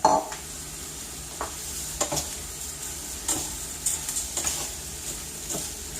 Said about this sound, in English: We're going to stir this in for a minute.